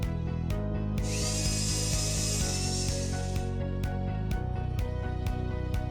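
A power tool cuts through the bottom flange of metal facade clamps, a steady high whine running for a couple of seconds between sharp knocks and clatter, over a constant low machine hum.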